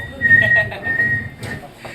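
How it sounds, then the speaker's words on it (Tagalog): A person whistles a short wavering tune, fairly close, with a bit of background noise. "may sumisipol talaga"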